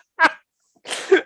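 A short intake of breath, then a single sharp, close sneeze.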